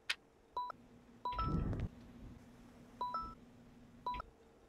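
A phone rings inside a Roblox barber horror game, sounding as short repeating electronic beep bursts at a steady interval, with a louder broadband scrape or footstep-like thud between the first rings.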